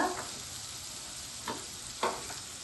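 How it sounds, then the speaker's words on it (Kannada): A bitter gourd stir-fry is stirred in a pan on low gas, with a soft continuous sizzle and a few distinct scrapes of the spoon against the pan. "ಈಗ ಗ್ಯಾಸ್ ವಾಲ್ಯೂಮ್ ಕಡಿಮೆ ಇಟ್ಕೊಂಡು ಎಲ್ಲನೂ ಮಿಕ್ಸ್ ಮಾಡ್ಕೊತಾ ಇದ್ದೀನಿ"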